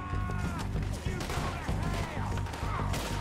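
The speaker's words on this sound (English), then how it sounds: "Who's shooting me?" Dense gunfire rattles through a Red Dead Redemption 2 shootout, loud and continuous with overlapping shots, while someone talks over the clatter.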